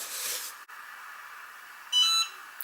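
After a faint hiss, a heat press that has finished heating gives one short, clear electronic beep, heard alone.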